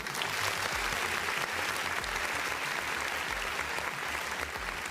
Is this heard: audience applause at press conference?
yes